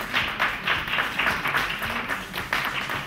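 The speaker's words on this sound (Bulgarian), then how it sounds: "Аплодисменти!" Steady, moderately loud audience applause greets a guest hairdresser introduced on stage at a 2013 hair-styling show, a dense patter of clapping that holds evenly for a few seconds with no one speaking over it.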